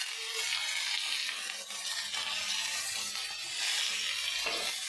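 Vegetables frying in oil in a pan: a continuous bright sizzle and crackle close by, with a few stirring scrapes and short dips in level, no voices.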